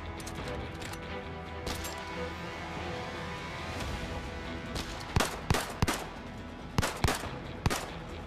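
Gunfire in the VR shooter Zero Calibre, with scattered sharp shots, a few isolated then a tighter cluster of loud cracks toward the end, over a busy game background.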